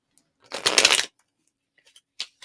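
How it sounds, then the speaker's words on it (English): Tarot cards shuffled in one quick riffle, a dense papery rush lasting about half a second, close and loud, followed by a few faint scattered card taps in near silence. "That's a good shuffle."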